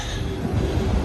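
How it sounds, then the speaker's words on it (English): A train approaches a station with a low, steady rumble, brief and moderately loud, with no talking. "Our train is approaching"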